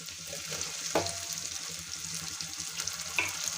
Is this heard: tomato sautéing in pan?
yes